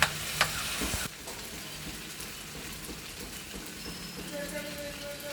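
Chili powder and coriander powder sautéing in a hot pan, a soft, steady sizzle with stirring scrapes, starting with a few louder clatters then settling into a quieter continuous fry, with a voice talking over it.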